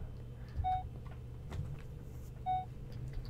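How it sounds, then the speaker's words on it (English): Two evenly spaced electronic beeps of the motion tracker in the video game Alien: Isolation sound over a low droning background hum, crisp and close, with no voices. "Hopefully this beeping does not get faster."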